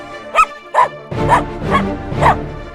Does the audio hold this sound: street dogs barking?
yes